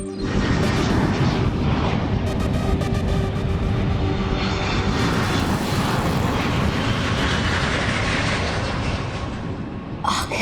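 A plane's engines roar loudly and continuously, close and powerful, with a rumbling, churning texture that holds steady for ten seconds with no voices.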